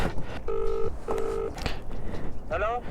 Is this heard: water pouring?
no